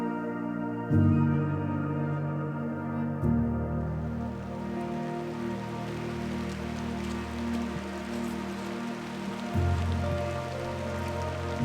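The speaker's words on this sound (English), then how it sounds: "It's raining" Steady rain falls on a muddy outdoor landscape, a continuous dense patter with louder surges near the start and end, heard alone without voices.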